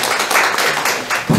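A conference audience at a Korean labor research institute forum claps briefly, a short burst of scattered hand claps from a crowd.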